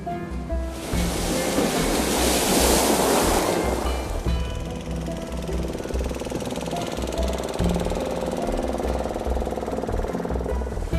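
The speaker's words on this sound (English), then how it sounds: "This is the Mediterranean." Mediterranean Sea waves break along the Hatay shore near Samandağ, a loud broad rush of surf that swells and then settles into a steady wash, with no voices.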